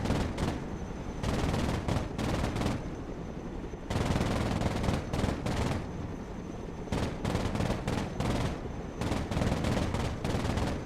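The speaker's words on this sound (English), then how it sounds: "it would make sense for the Chinook to do some supportive fire" Sustained supporting gunfire from a Chinook helicopter in the military video game Broken Arrow. It comes as long, loud, dense automatic bursts separated by short gaps and plays alone throughout.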